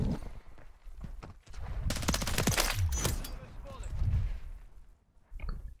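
Gunfire in Call of Duty MW3, rapid automatic bursts and clusters of loud sharp shots from close by, broken by brief pauses, with someone talking over parts of it.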